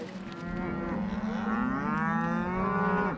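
Cattle herd mooing on a ranch in late-May snow, one long, loud, drawn-out moo that rises and falls in pitch, close by and alone, no talk.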